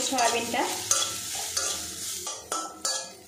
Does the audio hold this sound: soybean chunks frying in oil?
yes